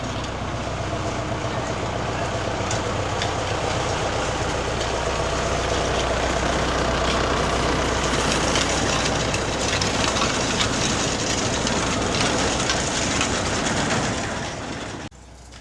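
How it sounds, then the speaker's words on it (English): A tractor giving rides at Timbertown, its engine running as a steady, loud, close drone for the whole stretch before cutting off abruptly near the end, with no talk. "Everyone having a ride on the tractor."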